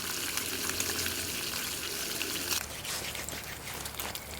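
Egg and bacon fry on a small camping burner out in the woods, producing a close, steady crackling sizzle that shifts to a rougher, more broken hiss partway through.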